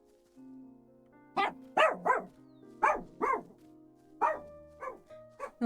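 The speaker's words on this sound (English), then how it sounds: "Little dog going off." In a video game, a small dog barks in sharp, close, clipped yaps, first a quick cluster of four, then a few more spaced barks, over a faint low background hum.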